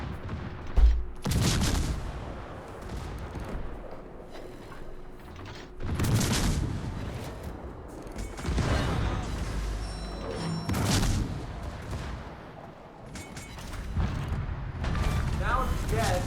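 Warship guns fire at the battleship Fuso during a naval battle game, heavy booming salvos recurring every few seconds over continuous mechanical rumble, with someone talking throughout.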